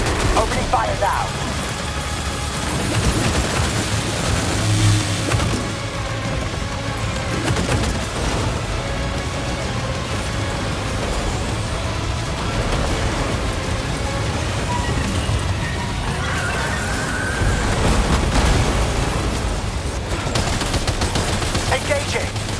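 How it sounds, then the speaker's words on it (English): Bursts of automatic gunfire in Death Stranding 2: On the Beach, mixed into a steady hiss like heavy rain, with loud, dense shots continuing for over twenty seconds. "Opening fire now."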